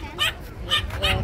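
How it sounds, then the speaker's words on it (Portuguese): An excited puppy at a beachside craft fair yips three times in quick succession, short sharp barks close by over a low background murmur. "Tá agitado o outro ali, ó. Quer brincar com outro cachorrinho."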